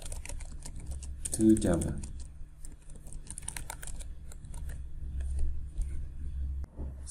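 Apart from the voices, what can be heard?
typing code on a computer keyboard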